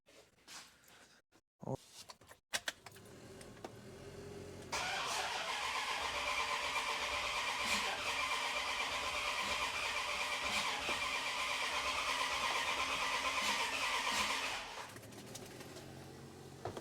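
A truck engine, under repair with the exhaust intake off, cranks in a few short bursts, then catches and runs at a steady, loud idle for about ten seconds before dropping lower near the end.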